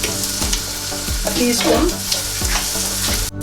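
Garlic and curry powder fry in a pan, a loud close sizzle with rhythmic scraping of a utensil stirring, while a voice speaks briefly.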